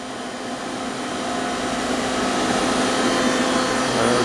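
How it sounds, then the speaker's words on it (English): A Sharnoa CNC vertical machining center automatically references its three axes, giving a steady, loud whirring and humming that slowly builds in intensity. "The machine is going to start automatically referencing all three axes."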